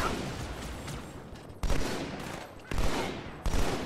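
Battle rifle bursts in Halo 2 Anniversary: three sharp, punchy volleys arrive at uneven gaps over a steady wash of battlefield noise, each one loud and close, with no voices.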